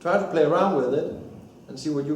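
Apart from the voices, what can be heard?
No everyday noises stand out.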